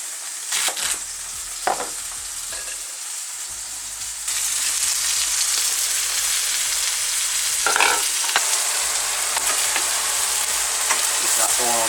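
Leeks and celery frying in a hot pan, a steady broadband sizzle that jumps louder after a few seconds as the vegetables go in, with occasional scrapes and stirring clatter, close and without talk.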